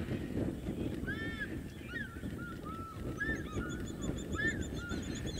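Egyptian geese give a series of harsh, nasal honks, some overlapping and spaced irregularly, at moderate distance outdoors over steady wind and low background rumble.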